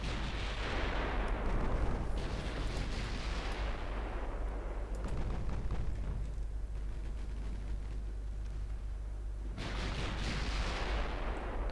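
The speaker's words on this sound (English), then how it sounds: "Secondary guns are starting to hit the DD." Warship secondary guns firing in a repeated series of deep booming shots in the naval game Ultimate Admiral Dreadnoughts, loud blasts rolling into low rumbling echoes with no voices.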